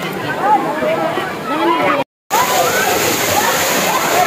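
Waterfall at Balite Falls in Amadeo, Cavite, a loud, steady rush of falling and splashing water close by, with a brief cut to silence midway.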